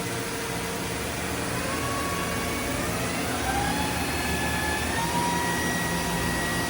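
A 2010 Mazak VCN 510 C-II Nexus vertical CNC machining center runs its spindle at 2,500 RPM, a constant loud whirring hum with faint rising tonal whines over broadband machine noise.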